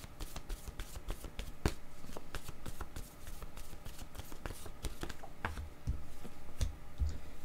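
Cards are shuffled and drawn for a card reading, a steady rapid run of soft riffling clicks and snaps, close and fairly quiet, with no talk.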